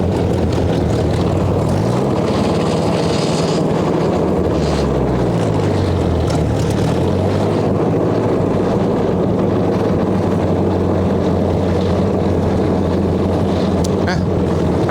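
A 1958 Ford Powermaster tractor engine runs on choke outdoors in snow, a loud, steady low rumble whose pitch sags and recovers as it struggles to keep running, with wind buffeting the microphone.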